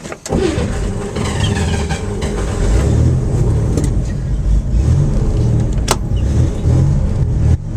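A turbocharged 1965 Corvair Corsa convertible with a four-speed, an original unrestored car, drives along with a loud, close, continuous engine drone and road rumble, steady throughout with only faint rattles.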